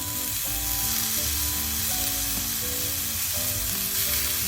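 Chopped tomatoes sizzling in hot oil with softened onion for a tinned fish curry, a loud unbroken frying hiss up close, with a melodic tone running underneath and no speech.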